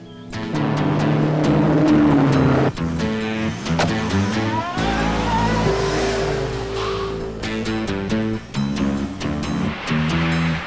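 A car drives along a country road, a low engine rumble swelling midway and holding steady beneath loud, dramatic orchestral music, with no talk.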